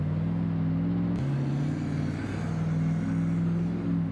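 Race car engine in Farming Simulator 25 holding a steady, loud drone with shifting pitch as it accelerates, one brief gear-change dip, continuous and close throughout.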